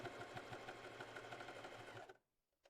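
Domestic straight sewing machine running a zigzag stitch on cotton children's underwear, a close steady whirring buzz with a regular stitch pulse that stops abruptly near the end, followed by near silence.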